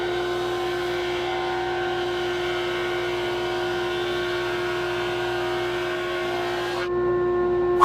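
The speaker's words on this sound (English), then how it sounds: "I've got 40 grit loaded up on the drum sander. A couple passes will take this off in no time." Drum sander loaded with 40 grit taking thickness off a wood board; a steady, loud machine hum and whine that drops in pitch and shifts near the end.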